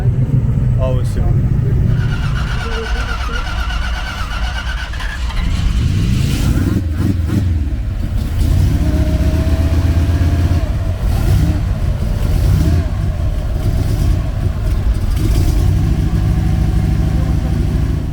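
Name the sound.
BMW E46 turbo car accelerating at drag race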